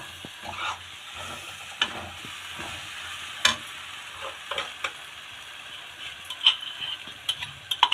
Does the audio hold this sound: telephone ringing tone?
no